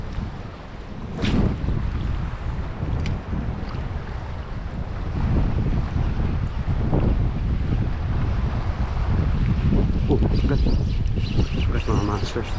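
Wind gusts buffet the microphone while someone fishes with a lure near the sea, making a heavy low rumble that swells and stays loud throughout, with faint water sounds beneath.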